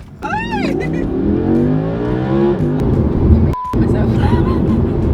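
A 2023 Audi R8 with its V10 engine revs loudly and close, the pitch climbing and falling in sweeping runs, with a brief cut before the engine note resumes; voices talk over the engine.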